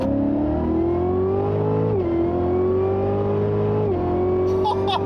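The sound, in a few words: car with supercharged LT4 6.2-liter V8 engine revving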